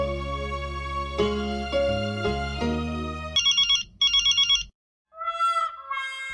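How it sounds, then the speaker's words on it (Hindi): A mobile phone ringtone plays loud and close: a sustained melodic electronic tune, then a run of rapid beeping tones, a brief silence, and a few more chime notes, with no talk. "फोन बज रहा है, उठाइए ना।"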